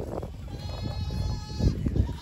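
Goats bleat at a farm in the Mekong Delta that keeps goats, rabbits and ducks; several near, overlapping calls, with a louder burst toward the end, over steady farmyard background.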